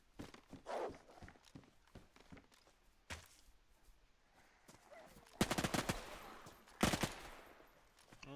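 Scattered gunshots ring out in the survival shooter DayZ, with a few isolated cracks followed by louder rapid bursts of fire in clusters, mixed with footstep-like shuffling and occasional faint voices.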